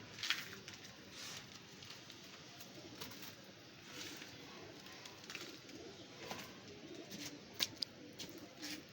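Pigeons coo softly near a rooftop loft, low murmuring calls repeating faintly over a quiet outdoor background with a few light flutters and clicks, and no talking.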